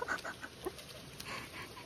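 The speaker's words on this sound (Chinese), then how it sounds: "大公鸡。" A rooster in a farmyard gives a few faint, scattered clucks against low background noise, with chickens, ducks and a black German shepherd nearby.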